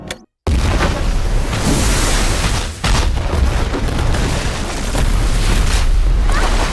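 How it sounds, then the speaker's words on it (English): A dam explosion: a loud, sustained roaring blast with heavy rumbling and rushing debris, continuing almost without pause after a brief silent start. "he ends up triggering the explosion anyway"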